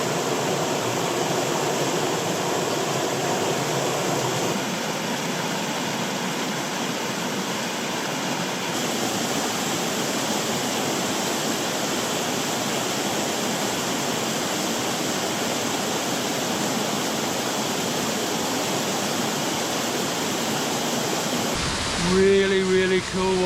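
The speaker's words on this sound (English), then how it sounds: "Really cool waterfall." Mountain waterfall on the Shannagh River in the Mourne Mountains, roaring as a steady loud broadband rush that fills the whole stretch, with a brief change and clatter near the end.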